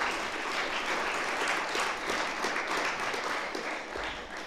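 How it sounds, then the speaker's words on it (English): An audience at a World AIDS Day speech applauds in a dense, steady wash of clapping that holds for the whole stretch, loud and even, with no voices over it. "I think they deserve a round of applause."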